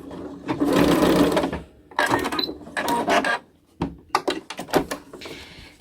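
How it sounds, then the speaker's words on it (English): A sewing machine back stitching a kids' fabric face mask, several loud close bursts of rapid mechanical stitching separated by brief pauses and clicks, with no talk. "And all the way to the end and back stitch."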